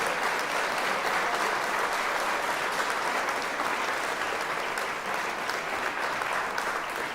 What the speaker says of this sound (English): could we have a really large collective round of applause for all of those finalists, please?